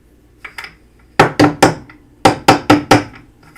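Metal pieces hammered together in a scrap-metal build: two light taps, then two quick bursts of loud, ringing close-up blows, three strikes and then four in a steady rhythm.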